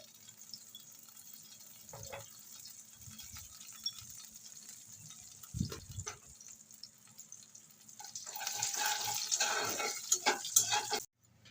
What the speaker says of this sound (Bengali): গোটা জিরা শুকনো লঙ্কাটা ফোড়নটা ভাজা ভাজা হয়ে গেছে